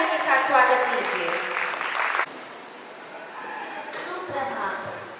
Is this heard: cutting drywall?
no